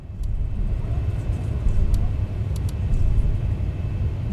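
A Boeing 737 MAX rolls out on the runway after landing in the X-Plane 11 flight simulator, producing a steady low engine and tire rumble that stays fairly loud throughout with a few faint clicks above it.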